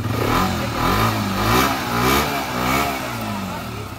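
A used orange motorcycle with about 15,195 km on it, its engine running and revving at close range in a loud, rising and falling drone with a few surges.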